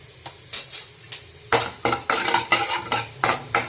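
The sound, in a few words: mustard seeds and chana dal frying in hot oil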